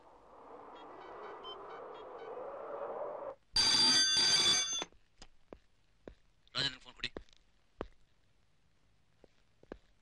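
A telephone bell rings in one loud, harsh burst lasting about a second, followed by scattered sharp clicks and handling knocks in a quiet room after a stretch of muffled background noise.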